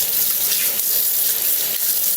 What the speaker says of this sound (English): So you rinse your hands off, make sure you get up your arms